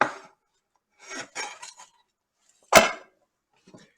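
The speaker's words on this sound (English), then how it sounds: "drop your onions on the bottom" Chopped onions drop into the oiled base of a rice cooker, with brief rustling and scraping bursts followed by one sharp, louder clatter, then a faint trailing rattle.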